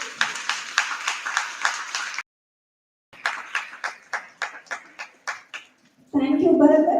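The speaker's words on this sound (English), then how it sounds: "A big round of applause to our moderator of the day." Rhythmic claps at a school debate competition come in two bursts of sharp, evenly spaced hits separated by a silent pause, and a voice starts talking right after.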